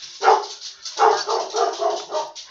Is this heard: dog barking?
yes